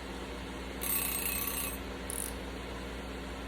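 A kitchen timer is set to one minute while pork skins fry in grease at 375 degrees, giving a short burst of high electronic beeping followed by a brief second chirp, with no talk over it.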